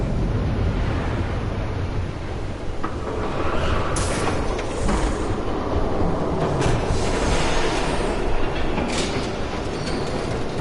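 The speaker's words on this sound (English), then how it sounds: "There's a train coming." In a Batman Telltale game, a train rushes past with a loud, continuous rumble, rhythmic clattering of wheels and scattered metallic squeals, close and filling the scene throughout.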